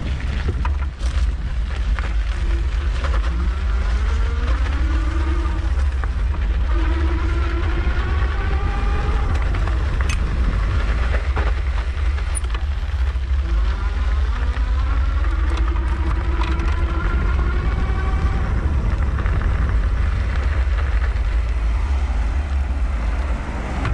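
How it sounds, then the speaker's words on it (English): On a Rad Power Bikes RadWagon 4 e-bike at the highest assist level, the motor gives a rising and falling whine as it rides over gravel, under steady loud wind rush. "I'm in the highest level of assist, so you can really hear that motor"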